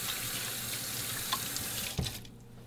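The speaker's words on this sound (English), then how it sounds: "and wash my hands." Tap water running steadily into a sink during handwashing, a close, even hiss with a brief clatter near the end as the flow cuts off.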